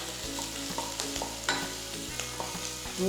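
Onions sautéing in a pan for mutton stew, a soft steady sizzle with rhythmic spoon scrapes and stirs, fairly quiet and close, no voices.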